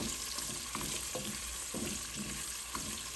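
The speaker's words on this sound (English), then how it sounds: "I will fry these onions till they are a little translucent or transparent" Onions sizzle steadily in hot olive oil, with a few soft scrapes and clicks of stirring over the constant frying hiss.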